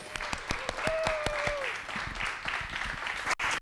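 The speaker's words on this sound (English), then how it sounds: "let's get a round of applause" Applause from an audience welcoming a speaker at a talk is mixed with a few distinct louder claps near the start, and then it continues at a moderate, steady level.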